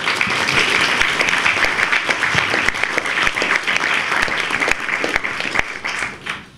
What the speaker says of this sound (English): So please have another round of applause for Sister Malia.